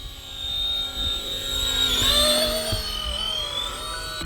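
A brushless RC Era C190 scale helicopter in flight gives a steady, close whine with high rotor and motor tones that shift slightly in pitch. It is continuous and fairly loud throughout, with no talking.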